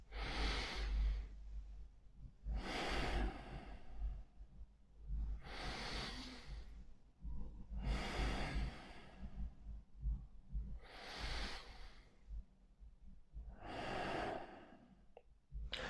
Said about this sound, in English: So try to just take deep breaths.